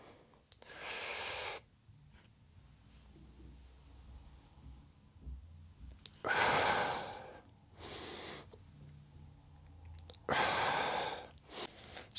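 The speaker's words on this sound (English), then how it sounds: "what I did was inhale before I squat down, and then I held on to the breath while I was in the bottom position" Loud, close breaths through the mouth during a goblet squat: three strong inhale and exhale bursts, separated by quiet pauses where the breath is held, with no speech.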